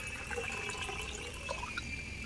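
Water runs steadily from a tap into a lota pot as it fills for a Ganesh puja, a continuous close splashing with no talk.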